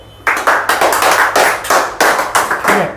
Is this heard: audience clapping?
yes